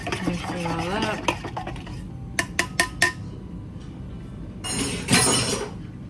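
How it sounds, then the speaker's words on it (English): Raw vegetables, including cauliflower and cucumber, are tossed in a bowl with a utensil: soft rustling and scraping, a quick series of clinks against the bowl, then a louder burst of mixing, close and without talk. "Mix it all up."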